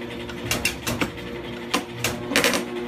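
Mechanical clicking and clattering from the moving cannons of a 1941 International Mutoscope Ace Bomber arcade machine, a string of sharp ticks and rattles in irregular bursts, close and moderately loud, with no talking.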